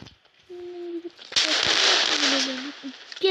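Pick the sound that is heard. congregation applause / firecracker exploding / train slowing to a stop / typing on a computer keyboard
firecracker exploding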